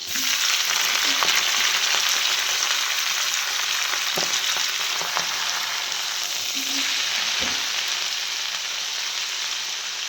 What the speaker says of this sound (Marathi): आता भाजी टाकून घेते.